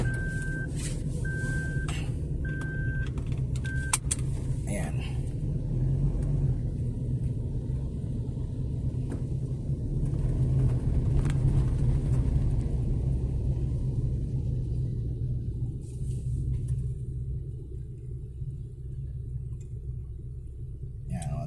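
Heavy truck traffic on a road in Ayala, near EDSA, a continuous low rumble of engines heard from inside a vehicle, with a brief electronic beeping at the start.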